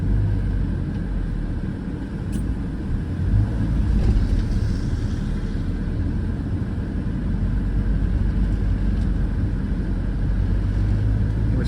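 A car creeping slowly along a road as another car beside it gets stuck, with traction control working: a steady, close, low engine and road rumble that stays continuous and even throughout, with no talking.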